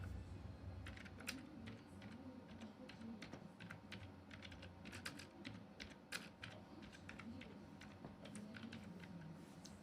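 Steady typing on a computer keyboard as a presentation title is entered: irregular, soft, close key clicks run throughout over a low background hum.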